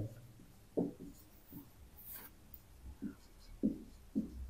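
A pen writes on paper while a maths problem on polynomial remainders is worked out, giving soft scratchy strokes in short bursts at a quiet level, with no talk over them.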